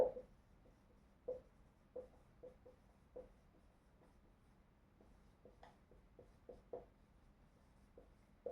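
A formula for the circumference of a circle being written on a board, heard as a series of faint, short scratchy strokes and taps at an irregular pace, close but quiet over low room hiss.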